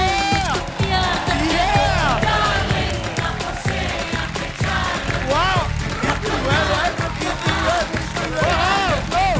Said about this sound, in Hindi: आइए दर्शकों, जोरदार तालियां